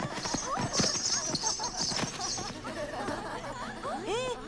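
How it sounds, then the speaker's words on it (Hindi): Hooves of an ornamented royal horse clip-clop in quick irregular beats, mixed with chatter and laughter from people nearby, and a whinny-like call near the end. "बड़ा ही सुंदर घोड़ा है राजा महाराजाओं का घोड़ा है"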